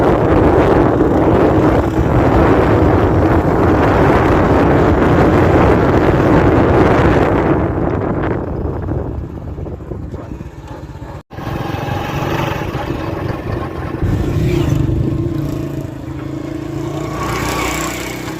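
A new-model 2023 Honda CD 70 motorcycle on a test ride, its small engine a loud, continuous drone mixed with heavy wind rush that eases midway, then resumes more quietly.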